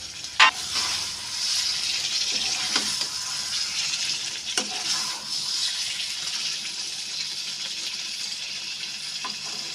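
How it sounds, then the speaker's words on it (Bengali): Chicken gizzard and liver curry simmering and being stirred in a pan, a steady hissing bubble throughout with a few sharp spatula knocks and scrapes, close and continuous, no voices. "5 মিনিট পর ঢাকা খুলে আবার একবার নেড়ে দিয়েছিলাম"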